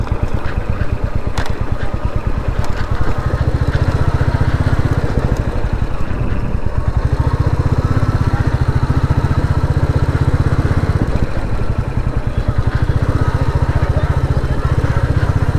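A motorcycle engine runs close by with a loud, steady low rumble that holds throughout, heard from a rider touring a film city in Assam.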